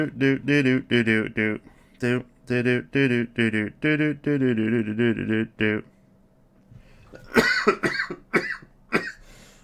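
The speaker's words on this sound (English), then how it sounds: "I've got a bit of a cough coming on" Voiced tones carry the first half, then after a short pause come several quick, harsh coughs in a rough burst.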